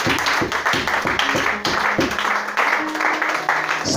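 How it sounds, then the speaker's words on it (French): A church congregation claps and cheers for Jesus during a worship service, steady rhythmic applause filling the room with a few voices calling out over it. "Acclamez Jésus là-bas."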